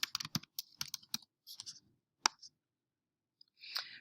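A password is typed on a computer keyboard in a quiet room: rapid bursts of close, crisp key clicks, a pause, a single sharp tap, then a final short cluster of keystrokes.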